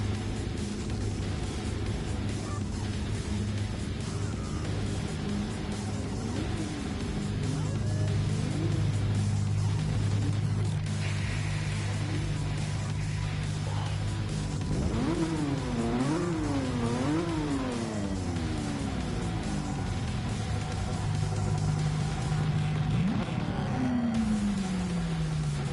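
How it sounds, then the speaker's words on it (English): Race car engines in the Gran Turismo 7 racing game drone steadily and loudly, with pitch swinging up and down as the cars rev and shift, holding a continuous engine roar without pause. "People that are revving their engine right here are just running through their gas."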